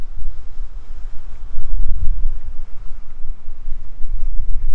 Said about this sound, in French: le vent il s'est levé d'un coup, c'est limite insupportable